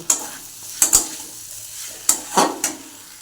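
Boiled, fried potatoes with spices are stirred in a pan, producing several sharp scraping strokes and clinks over a faint sizzle, spaced irregularly and heard close with no talk.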